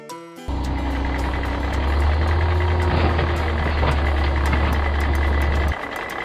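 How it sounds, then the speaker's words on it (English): A toy dump truck plays a loud reversing-beep sequence over a steady engine rumble, the repeated beeps ticking along evenly before the sound cuts off near the end. "Dump truck."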